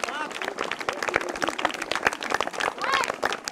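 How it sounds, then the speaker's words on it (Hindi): Enthusiastic applause from an audience at a Buddhist vihara quiz gathering in Budhwar Peth, dense rapid clapping that stays loud and close throughout, with voices and crowd chatter mixed underneath. "जोरदार ताली"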